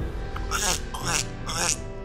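A voice imitates a big, drawn-out burp for a game launch trailer, with rough throaty bursts repeating over about two seconds.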